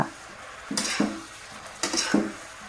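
Two short bursts of scraping and clatter, a utensil stir-frying onion flower stems with shrimp and oyster sauce in a pan, a light sizzle underneath, close by.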